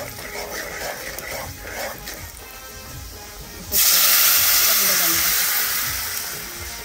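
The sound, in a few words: fish curry broth boiling on a wood stove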